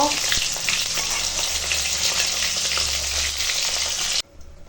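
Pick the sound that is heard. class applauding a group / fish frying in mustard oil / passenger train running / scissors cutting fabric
fish frying in mustard oil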